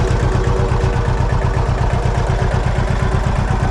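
Old homemade tomato sprayer driven off a tractor PTO, a steady low rhythmic engine chug and pump clatter running loud and close without a break.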